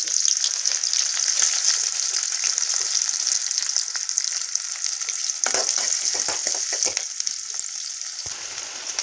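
Mustard seeds dropped into hot oil give a continuous bright sizzle with scattered crackling pops and a few stirring scrapes, close and fairly loud, with no talking.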